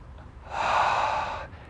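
A single forceful breath out through the nose by a person rising from a squat exercise, close and brief, swelling and fading over about a second.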